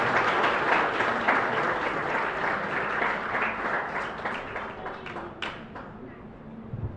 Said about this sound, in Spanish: Fuerte aplauso para Gonzalo